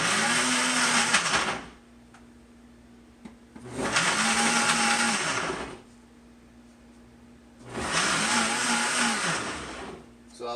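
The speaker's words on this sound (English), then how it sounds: "So I like this automatic blender." An automatic blender blending a green smoothie runs in three loud bursts of whirring roar separated by short quiet pauses, with a rising motor pitch in each burst.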